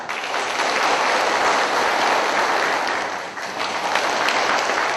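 Loud, sustained applause from a large crowd at a school ceremony in Indonesia, dense steady clapping filling the whole stretch with a brief dip near the end.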